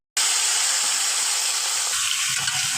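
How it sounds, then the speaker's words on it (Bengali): Bay leaf, dried chilli, whole cumin, cardamom and garam masala bursting into a loud, steady sizzle in hot mustard oil, starting abruptly and continuing as a dense frying hiss. "তেল দিয়ে দিচ্ছি সর্ষের তেল, তেজপাতা, শুকনো মরিচ, গোটা জিরে"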